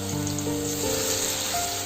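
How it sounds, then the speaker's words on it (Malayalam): Masala-coated chilli cauliflower pieces frying in very hot oil for chilli gobi, a dense, continuous bubbling sizzle holding steady and close. "മസാല പുരട്ടി വെച്ചിരിക്കുന്ന ചില്ലി ഫ്ലവർ ഇട്ടിരിക്കുകയാണ്"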